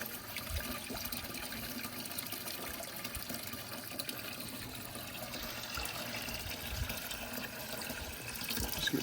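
Maple sap poured into a container while collecting it for boiling into syrup; steady splashing and trickling liquid runs throughout without pause, close and fairly loud, with no one talking.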